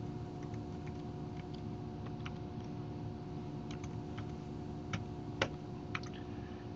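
Sparse keystrokes on a computer keyboard click faintly over a steady background hum, spaced unevenly as text is entered into a requirements form.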